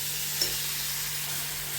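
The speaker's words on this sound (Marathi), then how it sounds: "मी चांगलं परतून घ्यायचं, चांगली मिरची भाजली पाहिजे." Chillies, garlic and coriander sauté in hot oil tempered with cumin, mustard seeds, turmeric and asafoetida, a dense continuous sizzle with one small pop early on, close and steady, with no voices.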